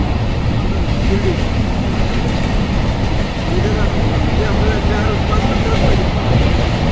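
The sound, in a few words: passenger train passing at station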